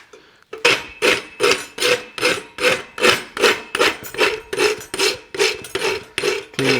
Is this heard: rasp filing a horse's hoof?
yes